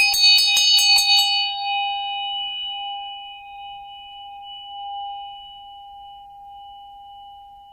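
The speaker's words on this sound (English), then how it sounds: "I'm going to start off by clearing with my root chakra bell." A root chakra bell is rung for clearing, giving a few quick metallic strikes in the first second, then a long, clear sustained ring that slowly fades over several seconds, alone with no talk.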